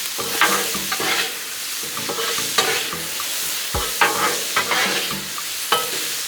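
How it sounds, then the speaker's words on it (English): Shrimp coated in island stir fry sauce sizzles on a Blackstone griddle while a spatula scrapes and stirs, a steady hiss punctuated by repeated metallic scraping strokes, close and fairly loud with no talking. "Give our shrimp a quick stir."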